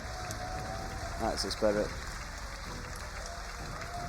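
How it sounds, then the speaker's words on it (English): At the Insomnia63 TF2 LAN grand final, the audience gives a brief, fairly faint burst of scattered clapping while someone speaks over the hall's background hum. "Give them a round of applause still."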